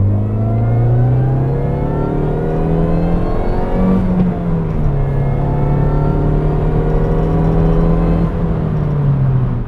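A Mini Cooper S R53 engine revs loudly and steadily, its pitch climbing and dipping around 4,000 RPM with a whirring supercharger whine on top, close and continuous.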